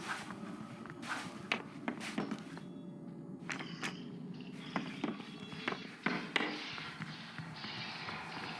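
Heavy footsteps of Mr. Keeler approaching inside a house in the horror game Homebody, a series of thudding steps at irregular intervals over a low ambient hum, growing somewhat louder toward the end.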